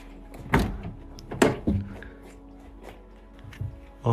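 Heavy door of an abandoned mansion being opened, giving several close wooden thunks and knocks spread over a few seconds with quieter rattling between them.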